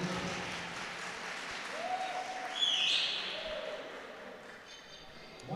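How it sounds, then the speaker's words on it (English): Applause from an audience at an Asian classic powerlifting championship after a failed lift, a broad steady wash of clapping under commentary, swelling slightly midway, with a few tonal pings and beeps. "It gets a mighty round of applause for the effort."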